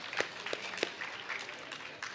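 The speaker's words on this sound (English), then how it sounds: "All of them deserve a very big round of applause." Moderate applause from an audience at a prize distribution ceremony of a national science camp, a short even patter of clapping with a few sharper individual claps standing out.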